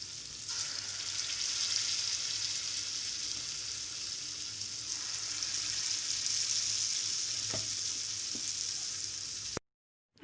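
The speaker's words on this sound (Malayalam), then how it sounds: "ബാക്കി വന്ന മാവും കൂടെ നമുക്ക് അതേപോലെ ഫ്രൈ ചെയ്തെടുക്കാം." Banana bonda batter fries in hot oil, a dense, steady hiss and crackle that holds close and even for several seconds before cutting off abruptly.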